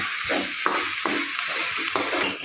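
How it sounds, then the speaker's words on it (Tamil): Finely chopped okra sizzles steadily in a hot pan while a utensil stirs it with a few light scraping taps, close up and with no one speaking. "நைஸாக நறுக்கிய வெண்டைக்காயை போட்டு வதக்குங்க"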